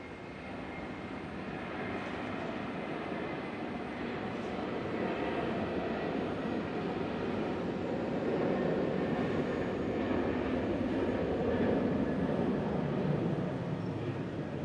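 A jet airliner takes off at Brisbane International Airport, its engine roar a broad, steady rumble that grows gradually louder and heavier over about fifteen seconds, heard from a distance with no talking.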